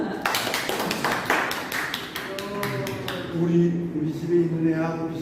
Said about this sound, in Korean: 두 사람 박수.